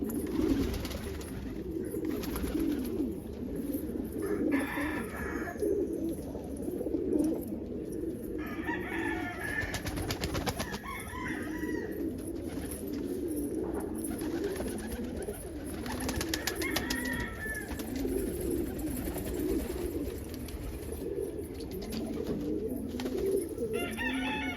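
Pigeons cooing outdoors on a morning of light snow flurries, with repeated soft coos and other bird calls over a steady background hum.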